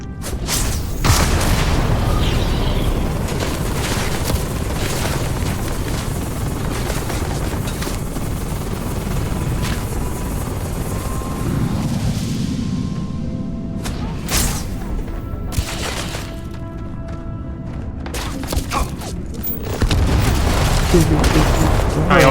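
Game combat with dense booms and rattling gunfire, grenade blasts in the mix, loud and continuous throughout, with a heavier low rumble near the end; voices talk over parts of it.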